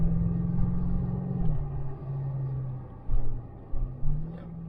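BMW M5 on a racetrack, its engine droning steadily with shifting pitch as it pulls, with a few louder bumps and surges near the end; no talking.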